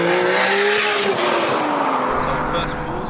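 An 800 bhp 2.8-litre stroker Nissan Skyline R34 GT-R under hard acceleration: a loud, rising engine roar with the pitch climbing steadily, then a brief shift before it pulls again, heard from close range.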